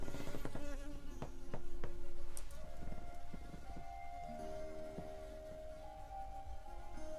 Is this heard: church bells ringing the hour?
no